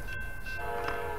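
Train rushing past at Encinitas station with its horn sounding, a loud steady rumble with a sustained horn tone throughout, close by.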